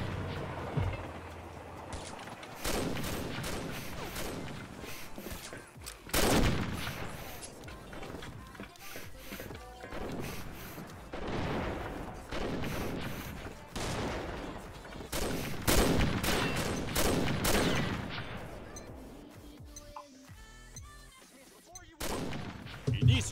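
Rapid bursts of gunfire from the online shooter game Combat Arms crackle through a round, dense and fairly loud, with scattered volleys and short pauses as a player talks over the action.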